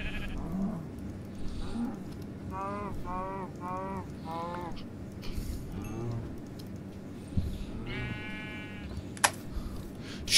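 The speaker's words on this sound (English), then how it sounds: "Look at all the sheep, Spike." Several sheep bleat in a series of quavering calls, one after another, with a sharper click and low background noise between them, in the video game Minecraft (Tekkit Lite modpack).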